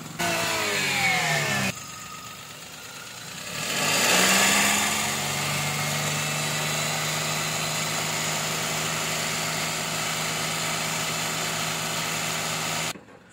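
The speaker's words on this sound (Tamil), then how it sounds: "ஸோ இப்போ வண்டி ஸ்டார்ட் பண்ணியாச்சு." A used car's engine cranks with a rising whine, catches, revs up briefly and settles into a steady, fairly loud idle that runs on before cutting off at the end.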